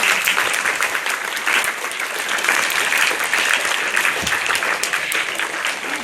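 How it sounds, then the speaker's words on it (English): At a school parliament ceremony, an audience gives a guest a loud, full round of applause, a dense continuous wash of clapping that stays strong and even for the whole six seconds. "Everybody, give a big round of applause for Arifa ma'am."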